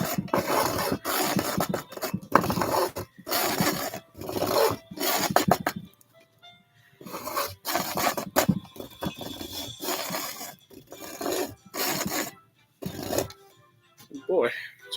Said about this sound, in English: when you're sawing, use the entire blade